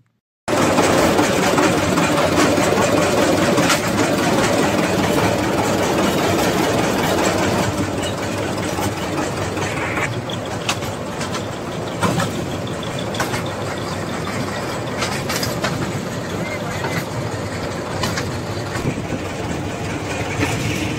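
A small toy train engine runs loudly and continuously, a dense steady roar with rattling carriage noise throughout, on the Elephanta Island toy train near Mumbai.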